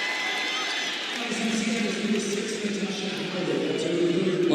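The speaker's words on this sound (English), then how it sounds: "the fans cheer because Liz Cambage is going to come back into the game" A basketball crowd at a WNBA game between the Seattle Storm and Las Vegas Aces cheers in a rising swell of voices that grows louder toward the end, with an arena murmur underneath.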